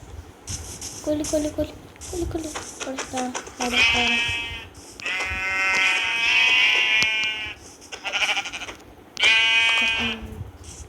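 A goat bleats loudly and close by, in several long, wavering cries at steady intervals, after a stretch of softer rustling and low vocal sounds.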